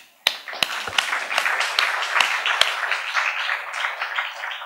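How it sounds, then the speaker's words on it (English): At a human rights press awards luncheon, the room claps for the kitchen, banqueting and front office staff: several sharp, close claps start it off, then a moderate patter of applause spreads through the crowd. "who deserve a round warm of applause"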